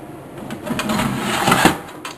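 Quarters go into a coin change machine that pays out dollar bills. Coins clatter and a mechanism whirs for about two seconds, close and fairly loud, ending in a sharp metallic clunk.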